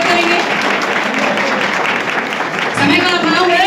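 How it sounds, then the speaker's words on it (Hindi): Applause from an audience welcoming a speaker at a gathering, a dense continuous clapping that swells again near the end, loud and close. "तालियों से स्वागत करेंगे"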